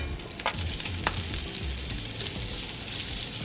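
Sausage frying in olive oil, a steady close sizzle and crackle that runs throughout, with a couple of light knocks near the start.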